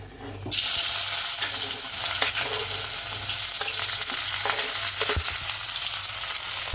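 Small shallots and curry leaves hit hot oil with popped mustard seeds and cumin, setting off a loud, steady sizzle that keeps going. Light stirring clatters now and then through the close, continuous frying.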